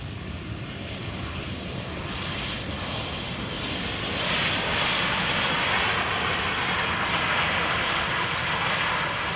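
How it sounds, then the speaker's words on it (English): A Boeing 747 roars steadily overhead as it lands at Amsterdam Schiphol Airport, a broad continuous rumble that swells slightly louder midway through, with no voices. "747 landing at Kaafbaan."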